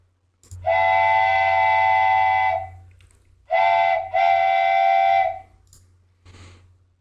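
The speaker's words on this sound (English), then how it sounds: "here we have our train whistle" A loud, breathy wooden train whistle blows one long steady note, then two shorter blasts in quick succession, alone and close.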